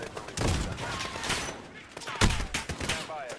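RPG and rocket fire during a Call of Duty: Modern Warfare battle: several sharp bursts and blasts land close and loud over about three seconds, irregularly spaced, amid a busy combat din.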